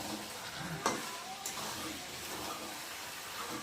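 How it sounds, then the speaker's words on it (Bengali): Chicken pieces, potatoes and tomato sauté in a pan with a constant sizzle, broken by a few sharp utensil clanks and scrapes as the mixture is stirred. "এখন আমি টমেটোটা দিয়ে একটু আলুর সাথে ভালো করে কষিয়ে নিই"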